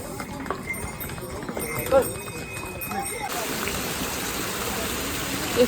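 Horses clop along a mountain pilgrimage trail from Gaurikund to Kedarnath. Their hooves sound faint and scattered beneath nearby talk and a steady rush of flowing water.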